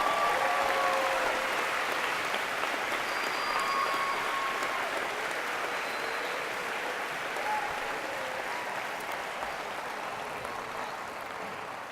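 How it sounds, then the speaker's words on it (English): Steady applause from a graduation convocation audience honoring 4.0 students, a broad sustained patter of clapping that slowly tapers in loudness, heard alone with a few faint tonal chirps. "Please give them a round of applause."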